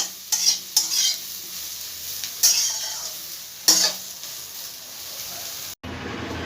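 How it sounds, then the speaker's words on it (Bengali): Soybean chunks fry in oil in a pan, giving a steady sizzle broken by a few sharp scraping stirs, close up, with no talking, then an abrupt cut near the end. "একটু ভালো করে ভেজে নেবো সয়াবিনগুলোকে"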